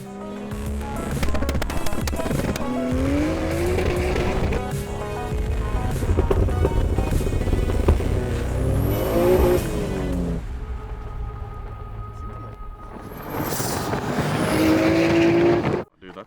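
A Toyota Supra drives at high speed, its engine note rising and falling through gear changes with a loud, sustained roar and rushing wind, heard close up before cutting off abruptly at the end.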